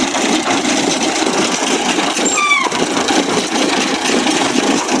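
A Massey Ferguson MF 113 tractor runs steadily with a dense, continuous engine drone while working a baler alongside a large New Holland tractor, loud and unbroken throughout with a brief higher squeal partway through.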